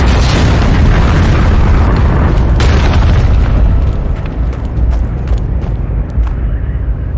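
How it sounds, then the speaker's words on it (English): Massive explosion of a compound in a Star Wars audio drama: a loud, deep booming blast with a rumbling roar that slowly fades over several seconds, with no voices. "The compound exploded behind her with a sound so loud it momentarily deafened her."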